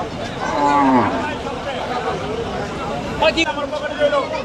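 Cattle low and moo amid a busy Qurbani cattle market at Paragram, with a crowd's steady babble and nearby voices talking throughout.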